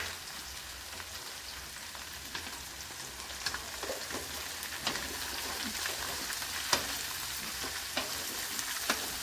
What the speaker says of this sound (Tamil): பிரண்டையை சேர்த்து வதக்கிக்கலாம்